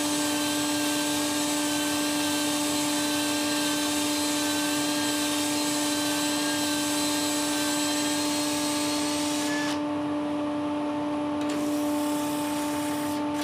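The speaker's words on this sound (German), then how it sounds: "die Schale in irgendeiner Form auf der Drehbank zu schleifen" A steady, high-pitched machine whine with a constant drone as a wooden bowl is sanded on a spinning lathe, continuous and close, no talking.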